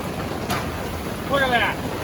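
Heavy rain pours onto a tent pitched beside a roaring flooded river in Maine, a continuous broadband rush with a brief harmonic voice-like sound toward the end.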